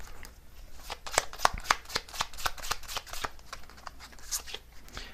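Tarot cards being shuffled and drawn by hand, a rapid series of crisp riffling flicks and slaps close up, fairly quiet with no talking.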